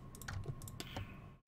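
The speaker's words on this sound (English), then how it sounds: "why can I hear your keyboard?" Quiet, uneven keyboard typing during Minecraft play, a run of soft clicking keystrokes close to the mic, stopping abruptly at the end.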